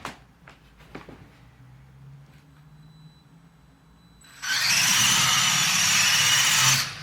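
A 1:10 scale RC drift coupe running on a BuWizz 3.0 motor controller, its small electric motor whining loudly and steadily for the last few seconds after quiet handling noises and faint motor hum.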